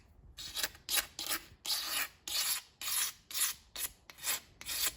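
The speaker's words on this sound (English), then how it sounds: "We're gonna get the old faithful razor blade back out, and we're just gonna scrape the chunks off." A razor blade scrapes old gasket chunks off the flat engine surface of an Audi 2.0T, in a steady series of about ten rasping back-and-forth strokes, close and even, with no voices.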